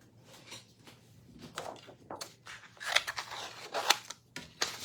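Several crisp snipping cuts in irregular bursts, close by, with rustling paper between them and no talking.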